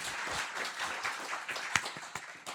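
An audience at a building inauguration celebration gives a short round of applause, fairly faint and thinning out toward the end into a few scattered, isolated claps.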